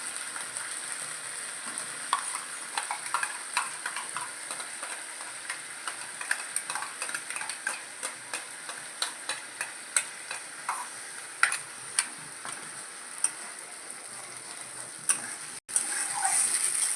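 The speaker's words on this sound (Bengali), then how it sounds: "এই মশলাটা দিয়ে দিচ্ছি। পেঁয়াজ বাটা, আদা বাটা," Onion and ginger paste fries in a pan under a steady high sizzle, with a spoon scraping and stirring in quick, repeated clinks and taps through the whole stretch, close and moderately loud, without any talk.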